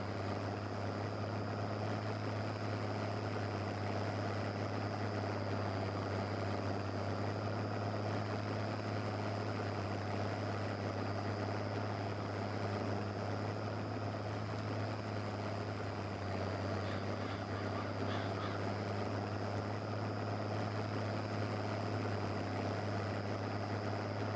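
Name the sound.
vintage Oliver tractor engine running while driving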